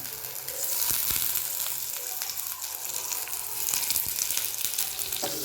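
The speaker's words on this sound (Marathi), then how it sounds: "हे जे बटाटे आहेत ते या पद्धतीने याच्यावर ठेवायचे आहेत आपल्याला इन शॉर्ट याला शालो फ्राय करून घ्यायचं आहे" Potatoes shallow frying in a pan with a little ghee give a steady, close sizzle and crackle with small pops throughout, no voices present.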